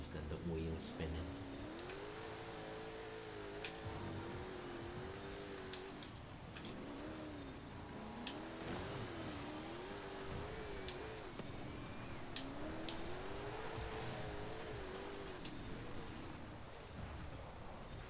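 A car engine in a racing video game revs and wavers in repeated rising and falling sweeps, with wheel spin in a low gear, loud and steady throughout, joined by faint tire squeal and other cars in an open online race.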